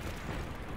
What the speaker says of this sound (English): Okay, explosion.